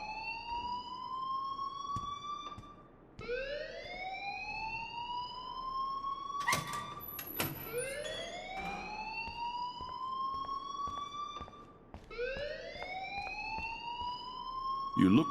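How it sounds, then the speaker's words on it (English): A rising-and-falling electronic alarm blares repeatedly in the video game Life is Strange, sweeping up in pitch every few seconds in a steady cycle, loud and continuous, with brief sharp noises and some speech mixed underneath. "please turn off that alarm since that's your job"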